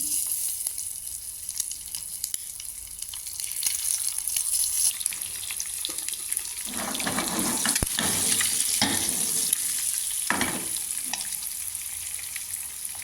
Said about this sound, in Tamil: லைட்டாக பொரிஞ்சதும் நம்ம வெட்டி வச்ச முட்டைகளை வந்து இதில் வந்து பொரித்து எடுத்துருவோம்